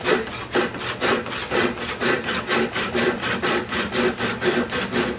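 An old hand saw rips straight down through a board, cutting with the grain in steady, rhythmic strokes, roughly three per second. Each stroke rasps loud and close, with no voices.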